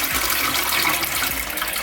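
Toilet flushing water through the tank, a loud, steady rush of water that churns on without pause and sits close by.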